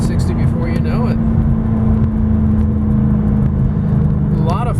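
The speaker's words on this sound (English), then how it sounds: "we'll try to get to 60. I won't go full pedal to the metal here, but I'll kind of give you an idea." A 2005 Ford Mustang Roush accelerating toward 60 mph, its engine droning loud and steady from inside the cabin, with a speaker talking over it.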